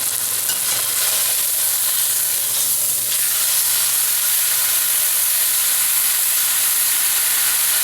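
A beef roast sears in olive oil in a hot pan, a loud, steady, close sizzle with a brief scraping turn near the start; no one talks over it.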